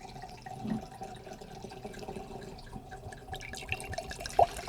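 Wine pours into a glass in a soft, close liquid trickle with small splashes, faint and continuous over a few seconds, with no one speaking.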